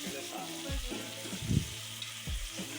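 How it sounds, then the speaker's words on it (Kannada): Mint leaves fry in a pan for a vegetable palav, giving a soft, steady sizzle with occasional stirring scrapes, fairly quiet and close, with faint voice-like murmurs underneath. "ಚೆನ್ನಾಗಿ ಇವಾಗ ಫ್ರೈ ಮಾಡ್ಕೊತಾ ಇರಬೇಕು."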